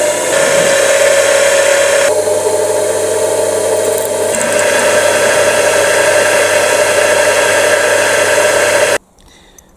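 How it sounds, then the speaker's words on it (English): A lathe boring a hole with a 3 mm drill bit in a part for an RC tipping trailer conversion, a loud steady whirring hum with grinding texture that pauses and shifts before cutting off abruptly near the end. "I'm going to use the lathe to make that hole"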